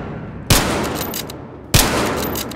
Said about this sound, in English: So, I'm just gonna no scope him